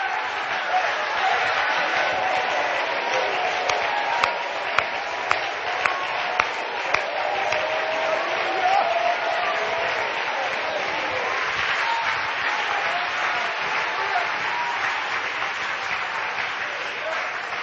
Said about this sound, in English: So why don't you clap like you've never clapped?